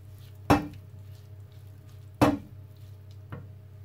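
Fried rice with ham and eggs stirred in a hot pan, with three separate scraping knocks of the utensil against the pan over a soft background hum.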